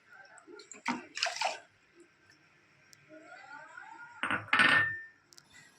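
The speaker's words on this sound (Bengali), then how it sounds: "এবার এই বাটির মাপ করেই আমি দিয়ে দেবো 1 বাটি জল।" Water from a bowl pours into sugar in a pan to start a syrup, giving short splashing gurgles near the microphone, with a quieter trickle between the two main pours.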